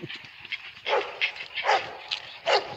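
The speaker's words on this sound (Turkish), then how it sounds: "Köpekler Pisiko'ya bağladılar." Several dogs bark in short bursts at a dog park, a few yips mixed in, moderately close with irregular spacing and no talking.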